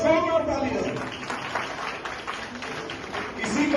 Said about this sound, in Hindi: मेरा अनुरोध है कि कृपया स्थान ग्रहण करेंगे बहुत बहुत धन्यवाद है और जोरदार तालियां